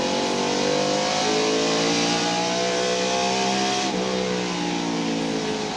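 Onboard a 1996 NASCAR stock car at North Wilkesboro Speedway, the engine howls loud and close, its pitch climbing through the straight, then dropping sharply around the four-second mark as the driver lifts off the gas before the corner.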